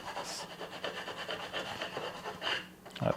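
Hand sanding of a small wooden project: short rasping strokes rub back and forth at close range, fairly quiet, with a couple of louder scrapes near the end.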